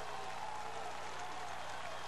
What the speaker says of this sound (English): this crowd at Paulson Stadium on its feet, trying to cheer its defense on